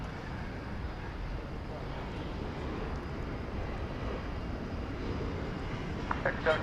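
An Embraer E-Jet airliner at DFW Airport produces a steady, broad engine roar that holds evenly throughout at a moderate distance, with a few faint higher tones near the end.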